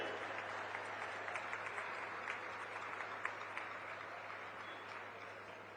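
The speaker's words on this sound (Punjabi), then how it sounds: "ਇੱਕ ਵਾਰੀ ਆਪਣੇ ਆਪ ਲਈ ਜ਼ੋਰਦਾਰ ਤਾੜੀ ਮਾਰ ਲਓ" Children at a school anti-drug event in Punjab give a long round of applause, a steady, dense wash of clapping from a large group with no voices standing out, heard at a moderate distance.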